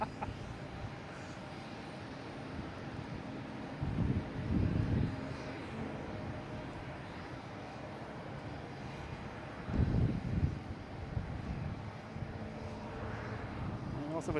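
A JetBlue airliner arrives from San Francisco at Boston Logan International Airport, its engines a faint distant roar that swells in two broad surges under a quiet, windy background.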